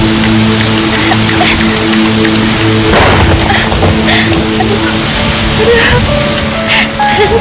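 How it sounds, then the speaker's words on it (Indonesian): Heavy rain falling steadily outdoors, a dense continuous wash of drops with a low hum beneath it and some faint background sounds. "Hujan semakin lebat."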